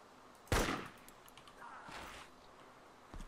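A single gunshot rings out in DayZ, a sharp loud crack echoing briefly, followed by a fainter second shot and a soft final report, with no talking.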